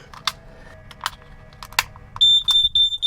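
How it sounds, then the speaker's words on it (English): A motorhome gas leak detector alarm sounds with a run of loud, high, piercing beeps in quick succession after a stretch of quiet handling noises and faint clicks. "And yep, we set off the alarm."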